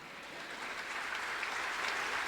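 Church congregation applauding during a sermon, a steady wash of clapping from many hands that holds at an even, moderate level throughout, with no voices over it.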